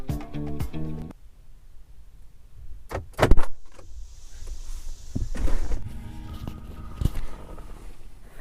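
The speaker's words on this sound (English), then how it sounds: "I'm stepping into my car" Someone gets into a car: keys jangle, then several sharp thuds and clunks from the door and seat follow, with soft rustling and movement between them, all close by.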